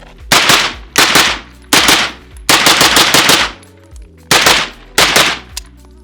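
Rapid string of loud gunshots in sharp, evenly spaced bursts from a gun firing Supervel low-recoil ammunition on a shooting range, with brief ringing gaps between reports.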